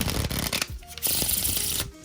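1000 Cranes playing cards from RiffleShuffle being shuffled: a couple of quick, loud papery riffle bursts with flicking card edges, close and with no talk.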